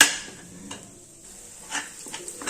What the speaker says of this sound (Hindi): अब लो फ्लेम पे लगातार चलाते हुए सूजी को हम 8 से 10 मिनट के लिए चलाते हुए अच्छे तरीके से भून लेंगे